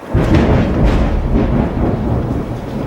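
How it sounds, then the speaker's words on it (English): Deep, heavy thunder from a brewing storm rumbles continuously and loudly, a rolling low roar that swells in waves over a hiss of rain. "It's a big storm brewing."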